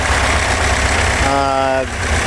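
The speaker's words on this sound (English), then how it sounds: "We'll do a little brief video of the engine running" A 1965 Porsche 356C engine idles loudly and steadily up close, a rough continuous rumble with a brief tonal whine rising over it near the end.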